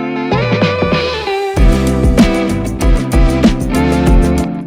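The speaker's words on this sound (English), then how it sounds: "But with the plugins, the distortion and the EQ sounds like this" Heavily distorted drums shaped by distortion and EQ plugins thump and crash alongside sustained tonal layers, loud and dense throughout with no voices.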